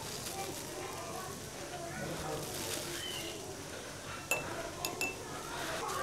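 A few sharp clinks of a glass being handled as sugar powder is put into it for a chemistry experiment, brief bright taps near the end over a steady background, with a person talking throughout.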